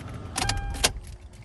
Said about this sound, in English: Time to shut off the engine.